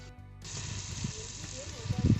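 Cumin seeds hit hot oil and sizzle for a Saraswati Puja khichuri, a bright hiss starting abruptly after a brief pause, with soft stirring scrapes and low knocks growing louder toward the end.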